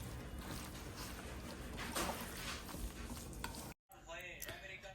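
Small spearing fish curry being gently mixed by hand in a pan, a soft continuous wet stirring and sizzling texture, steady and close, briefly cutting out near the end.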